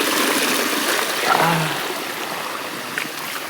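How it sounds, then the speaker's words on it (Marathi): Water rushes steadily through a shallow stream in a grandmother's garden, a close, continuous wash of flowing water with no clear footsteps standing out. "पाण्यातून जायला मजा येते."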